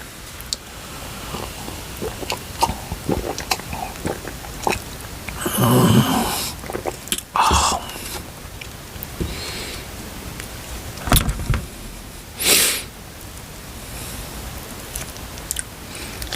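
Close-up wet chewing and biting of grilled bacon-wrapped enoki mushrooms, soft crunches and squishes in irregular bursts, with occasional louder bites and no talking.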